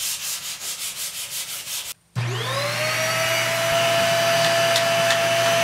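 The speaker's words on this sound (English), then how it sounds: "so it's all vacuumed off now" A vacuum cleaner sucks sawdust off a freshly sanded wood project. A rhythmic rubbing sound comes first, then a brief silence, and then the vacuum whines up to a loud, steady drone close by.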